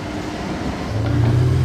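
A yellow Porsche Turbo S sports car drives past on a Monaco street, its engine note swelling from a steady rumble into a louder, deeper growl as it nears, with street noise around it.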